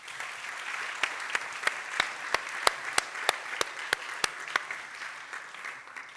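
An audience at a European heritage awards event applauds steadily, with a string of sharp, regular louder claps standing out near the microphone above the general clapping.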